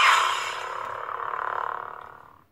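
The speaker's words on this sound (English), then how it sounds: "Like this is that Dooku on sound I told you about" Count Dooku's lightsaber igniting in the Star Wars video game Jedi Outcast, a single bright whooshing power-on burst that settles into a steady electric hum and fades out, with no voices.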